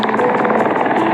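A remote control helicopter flies close by, its rotor making a loud, rapid, pulsing whir with a steady motor whine underneath.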